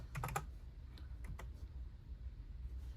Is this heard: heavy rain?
no